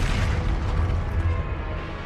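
A Confringo fire spell explodes in Hogwarts Legacy during combat, a dense, sustained booming blast with crackling rumble that fills the whole moment at high loudness.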